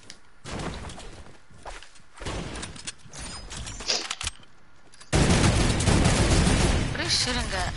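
Bursts of rapid gunfire in an online shooter game crackle in clusters, then a loud, sustained volley takes over in the final seconds, with players' voices talking amid the shots.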